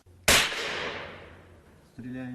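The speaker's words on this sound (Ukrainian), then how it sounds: "Кілька секунд цілиться і стріляє." A single sharp gunshot at a 50-metre shooting range cracks and echoes away over about a second and a half, followed by a low hum with a voice starting to speak.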